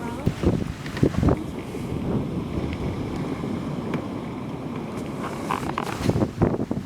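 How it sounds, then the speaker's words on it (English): Strong wind buffeting a sailboat on choppy winter seas in the Bay of Biscay, a loud continuous rush with gusty microphone rumble and occasional knocks and splashes. "The wind has picked up quite a lot."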